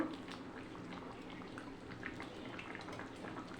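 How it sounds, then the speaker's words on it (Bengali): A meat curry in thin gravy simmers in a pot, giving a faint, steady bubbling hiss at close range with no talk. "ভালো করে আমি ফুটিয়ে নেব।"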